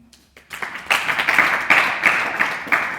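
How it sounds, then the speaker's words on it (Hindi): Students clapping for classmates in a classroom during a Hindi-language Sanskrit translation lesson, a burst of many hands rising after a brief pause and continuing steadily and fairly loud to the end. "अगर ताली बजाओ उनके लिए।"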